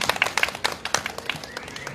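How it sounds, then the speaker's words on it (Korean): A crowd at a candlelit rally against THAAD in Gimcheon, South Korea, claps for a speaker, with scattered, uneven handclaps at moderate distance that thin out toward the end. "발언해주신 박병지 선생님에게 다시 한번 박수 부탁드립니다"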